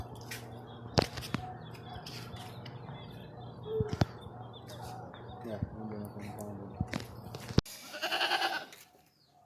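Goats bought at a livestock market bleat repeatedly from inside a moving car, sharp cries scattered over the road rumble, with people talking throughout.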